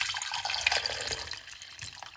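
Water poured over a lemon dusted with baking soda, a steady splashing, trickling stream close by that runs throughout without pause.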